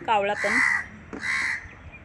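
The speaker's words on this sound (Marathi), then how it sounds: "कावळा पण मागतो माझ्याकडे खायला." Two harsh crow caws, close by and loud, with a voice speaking briefly at the start.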